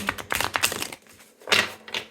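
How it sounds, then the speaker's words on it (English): Tarot cards being shuffled in quick, clattering bursts, close by, with a brief pause before a final riffle. "Let me shuffle one more time."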